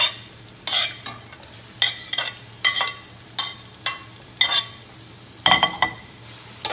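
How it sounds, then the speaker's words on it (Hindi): Chopped onions fry in oil for Sindhi biryani while a utensil stirs and scrapes the pot in steady, repeated strokes over a constant low sizzle, close up with no talking. "इसके अंदर सबसे पहले हम ऑयल डालेंगे, मुनासिब सा, और इसके अंदर ये प्याज हम डाल देंगे"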